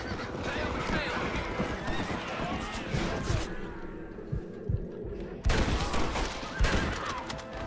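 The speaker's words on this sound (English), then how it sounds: "I'll try using the bolt action rifle" Bolt action rifle shots in Red Dead Redemption on Xbox 360, a few sharp reports over busy game ambience with horse hoofbeats and whinnies, one loud crack standing out near the end.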